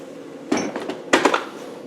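Two light metallic taps on an axle hub being seated onto a vehicle axle during a swivel and axle refit, short clinking knocks close up against a quiet background.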